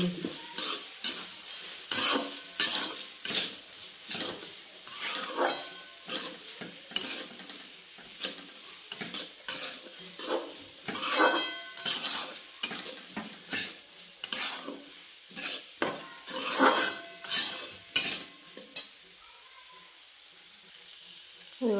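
Food being stirred in a sizzling pan, with a spoon scraping and clinking against the metal in irregular strokes over steady frying, close and moderately loud.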